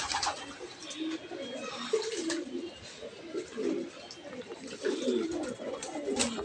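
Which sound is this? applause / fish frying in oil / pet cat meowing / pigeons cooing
pigeons cooing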